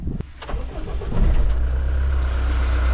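Twin boat engines turn over and catch on a vessel leaving Barcelona in rainy weather, a few sharp clicks giving way to a loud, steady low rumble that builds and holds.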